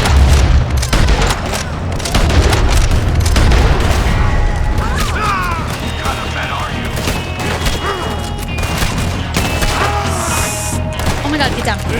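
Sustained gunfight in Red Dead Redemption II: loud repeated shots and booming blasts crackle throughout, with scattered clatter and crashes, while voices talk over the shooting.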